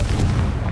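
A fiery spell explosion in Hogwarts Legacy, a short loud booming blast with a rumbling low body lasting under a second.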